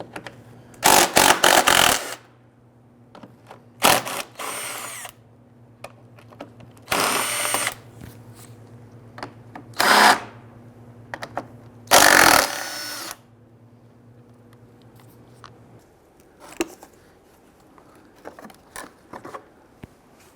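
Power tool whirring in short bursts as it loosens and removes four 10mm bolts from the fan assembly of a 1999-2004 Jeep Grand Cherokee 4.7L V8 radiator, several loud close spins separated by quiet pauses, with a steady low hum underneath.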